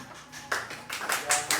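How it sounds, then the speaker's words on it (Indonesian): An audience claps at a book discussion event at Kios Domisili, Kediri, with a few uneven bursts of hand claps building over a short stretch. "Tepuk tangan yang meriah."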